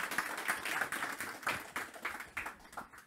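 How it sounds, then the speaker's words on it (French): A church congregation at a Sunday service applauds the youth praise group, steady soft clapping from many hands at a moderate distance, lasting the whole moment without talk. "On les applaudit, c'est que les jeunes, hein."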